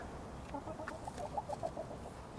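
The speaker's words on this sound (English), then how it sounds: "Here's all the chickens" Chickens of every age in a backyard homestead flock, making faint, soft clucks and murmurs in short irregular bursts over a quiet background.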